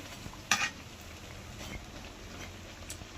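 Masala vadas made from chana dal batter fry in hot oil with a steady soft crackling sizzle, while a few sharper clinks and scrapes come up close as the fritters are turned in the pan.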